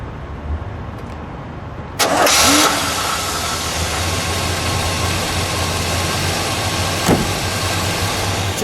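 A 1964 Oldsmobile F-85 Cutlass 442 convertible cranks and fires after about two seconds of quiet, then settles into a smooth, steady idle that carries on to the end. There is a brief blip partway through.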